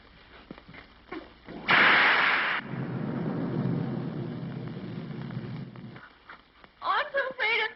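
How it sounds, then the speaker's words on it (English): Storm thunder from a silent film sound effect: a sudden loud crack, then a long rumbling roll that fades out, and a voice speaks briefly near the end. "I'm so afraid of thunder and lightning."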